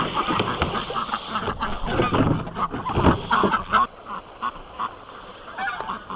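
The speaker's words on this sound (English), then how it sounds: "Oh, ducks." Ducks and geese kept for hatching eggs honk and quack outdoors near muddy ground, with several loud calls in quick bursts, then quieter scattered calls at a distance.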